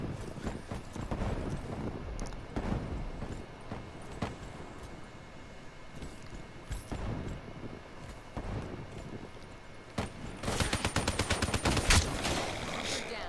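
Man of War assault rifle firing in the video game Black Ops 3, with repeated bursts of sharp automatic gunfire scattered across the stretch and a dense rapid burst near the end, with game ambience between.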